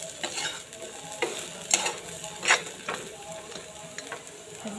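Maggi noodles frying with potatoes in a hot pan, stirred briskly so the spoon scrapes and clacks in repeated bursts over a continuous close sizzle, with no voices.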